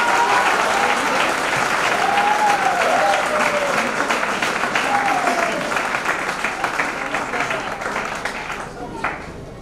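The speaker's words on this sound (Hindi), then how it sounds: "एक बार अपने लिए ताली बजा दो मेरे भाई" An audience claps at a promotion ceremony in Begusarai, loud and dense applause that holds steady for several seconds and then gradually thins, with voices underneath.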